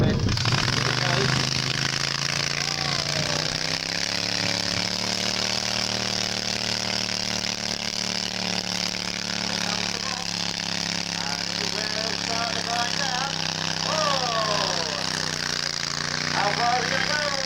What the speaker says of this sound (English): First tractor in the pull-on.